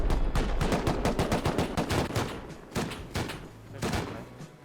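Rapid gunfire in the survival game Rust: dense bursts of loud, close shots crackle almost continuously, with short pauses between volleys.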